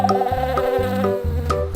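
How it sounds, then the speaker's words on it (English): Bees buzz around flowers on a farm, a close, steady droning hum with a few short louder pulses as they move about, no voices present. "Some bees are babbling around the flowers."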